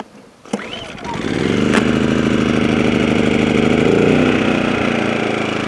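A Powersmart 2500 watt inverter generator, choke set, starts with a pull and catches into a steady, loud running hum that holds close by for several seconds.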